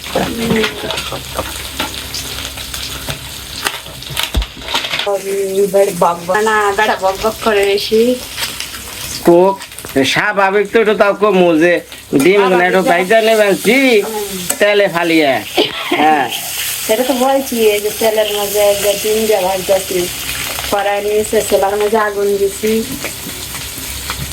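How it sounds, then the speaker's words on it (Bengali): Eggs fry in a pan with a loud, constant sizzle and crackle close by, while someone talks over it for most of the time. "হইলো আমার ডিম ভাজি"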